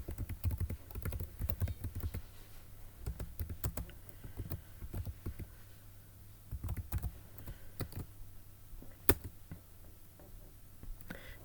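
Quick clatter of keys on a computer keyboard as a search query is typed, bursts of close taps with short pauses between, no one talking.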